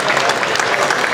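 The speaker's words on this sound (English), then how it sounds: "Let's give this class a round of applause" Applause for a class of junior Holstein herds at a cattle show: a dense burst of crowd clapping filling the whole moment, loud and continuous.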